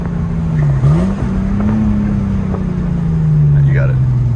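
A Nissan S14 fitted with a 1JZ engine pulls hard in third gear, its exhaust droning steadily with a brief dip and rise as revs shift, loud and close, while occupants talk over it.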